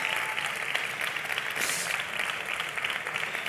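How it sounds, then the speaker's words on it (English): Applause from a large outdoor audience in Plaza de Catalunya, Barcelona, a dense, continuous wash of clapping at steady volume throughout. "There is a big applause from you here in Barcelona, in Plaza de Catalunya"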